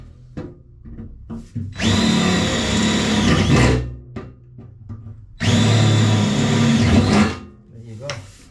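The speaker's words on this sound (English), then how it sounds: "So this is just a 12 volt DeWalt drill set I got" A 12-volt DeWalt cordless drill bores into a metal ammo box in two loud bursts of whining, grinding drilling, separated by a pause filled with small clicks and handling knocks.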